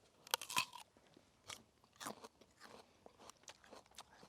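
Crisp, crunchy bites and chewing into a freshly harvested raw yacon tuber, close and quiet, with a couple of sharp initial crunches followed by softer chewing.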